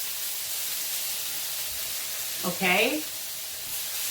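A cauliflower-crust cheese steak pizza sears on a grill with a steady, soft sizzle and hiss, and a brief spoken word rises over it near the end.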